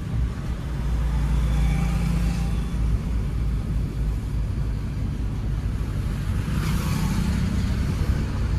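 A car drives straight ahead on a divided road during a driving lesson, its engine a low steady rumble with road noise heard from inside the cabin, no talking.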